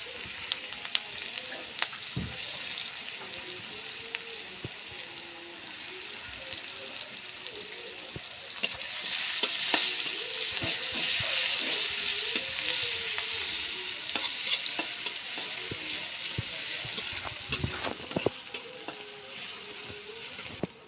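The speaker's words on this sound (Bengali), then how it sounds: "পেঁয়াজটা আমাদের ভাজা হয়ে গেছে" Onions frying in oil with bay leaf, cinnamon and cardamom while being stirred, a continuous sizzle that swells in the middle, broken by frequent scraping knocks of the spoon against the pan.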